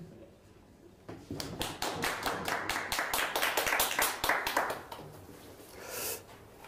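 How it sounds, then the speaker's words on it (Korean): At a Korean civic policy forum, an audience breaks into brisk clapping after a short pause, a dense close patter that swells, holds, then thins out toward the end. "박수 부탁드립니다"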